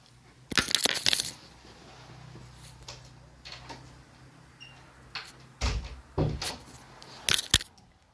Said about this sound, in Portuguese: Deixa eu abrir a porta para o Snow sair